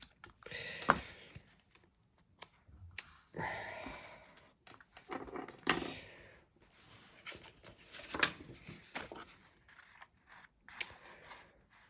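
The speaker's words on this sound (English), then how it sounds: "I'll trim that bit off with my scissors." Scissors snipping through paper card stock while trimming a handmade card, in a series of uneven cuts, close and crisp, with short gaps between snips and no talking.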